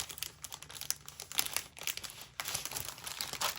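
Strips of foam tape are handled close up, giving faint crinkling and light tearing rustles in irregular bursts with no voices.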